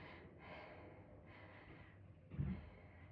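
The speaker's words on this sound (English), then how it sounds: "God, you can hear me breathing now," Heavy, rhythmic breathing from someone during a kettlebell workout, with faint repeated breaths and a stronger exhale or gasp near the end, close to the microphone.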